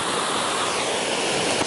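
Stream water pouring into a small pool beside gravel on a hot day, a loud, continuous rushing splash that holds steady throughout the short stretch.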